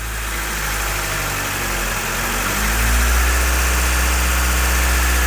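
A 1991 Honda Civic Wagon engine runs with a steady low hum that rises in level partway through and holds, close and even.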